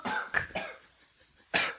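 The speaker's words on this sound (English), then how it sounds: "having a coughing attack" Several sharp, harsh coughs in a quick cluster, then a pause and one more loud cough, close up in a quiet indoor setting.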